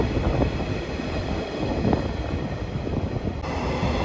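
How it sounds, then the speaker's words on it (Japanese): A JR West 115 series suburban electric train on the Sanyo Line at Kurashiki Station gives a steady, fairly loud rumble of running gear and motors, continuous throughout with no voices. "倉敷駅12時47分山陽本線近郊行き115系近郊型電車です。"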